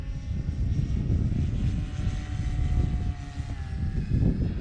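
An E-flite radio-controlled model airplane drones steadily overhead, its small propeller motor buzzing at a moderate distance and swelling slightly near the end, with no talk.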